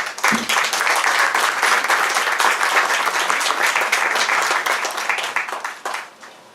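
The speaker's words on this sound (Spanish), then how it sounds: "Lo recibimos con un fuerte aplauso." Audience applause at a lecture on Manuel Joaquín de la Pezuela, a dense steady roar of many clapping hands that holds loud throughout and thins slightly at the very end.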